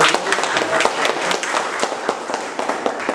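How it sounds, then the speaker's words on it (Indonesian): A classroom audience claps together in lively applause, a dense, loud burst of many hands sustained throughout, with faint voices mixed in. "Berikan tepuk tangan dan meriah"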